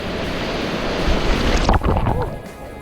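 Ocean surf breaking at a beach in Bali, a large wave crashing in a loud, continuous wash of water with wind buffeting the microphone; a voice briefly shouts near the end.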